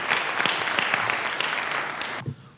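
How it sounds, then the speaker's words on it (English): Sustained audience applause at a business summit, a dense steady clapping from a large crowd that cuts off abruptly near the end, followed by a brief low thump. "can we have a round of applause for our speakers from India?"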